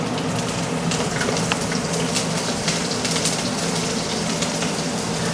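Green chillies sizzle in hot oil in a pan alongside lightly fried bhetki fish, giving a steady, crackling hiss with small pops throughout.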